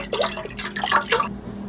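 Broth pours into a cooking pot, a short run of splashing and trickling liquid with a few drips, close and moderately loud, used to rinse out a tomato sauce can.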